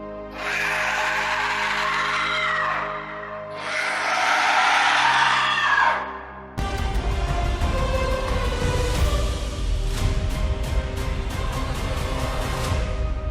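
Two long, loud, strained screams one after another, harsh and piercing, then giving way to a dense, rumbling dramatic noise with sharp repeated hits.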